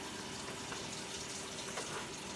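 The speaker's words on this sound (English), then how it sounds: "I'll add more water into my pot." Water pours steadily into a cooking pot, a continuous hissing splash of moderate loudness, close by and unbroken, with no speech.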